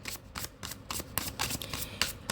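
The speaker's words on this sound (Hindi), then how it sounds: "Last shuffle." Tarot cards are shuffled by hand in quick rhythmic riffles, a string of close, papery flutters and slaps with no talking.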